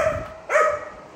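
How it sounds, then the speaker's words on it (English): A big short-snouted dog named Zeus gives a single bark midway through, loud and close, in a garage with low background hum. "This is a big dog, y'all."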